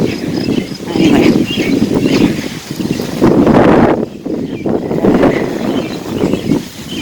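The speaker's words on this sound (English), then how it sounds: "Nice breezy." Breezy outdoor wind buffeting the microphone, a loud continuous rumbling whoosh that swells and eases in gusts, with a voice speaking over it.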